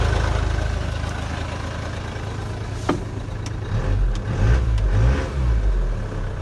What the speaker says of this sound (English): Just blowing on the exhaust.